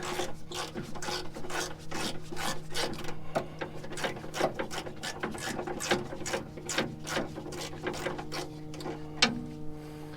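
A hand ratchet turns long rusty strut bolts on a Honda Ridgeline, a close, steady rapid clicking that continues evenly throughout with a faint mechanical hum beneath.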